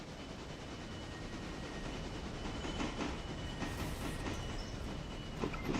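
A boxcar train rolls past on the Whittier to Andrews line in Alarka, a steady, loud rumble with faint rhythmic wheel clatter over the rails, continuous and close throughout.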